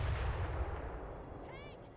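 Cannons fire in a Total War: Warhammer 3 battle as a heavy, rumbling boom that fades over two seconds beneath dense battlefield noise, with a faint whistling sweep near the end.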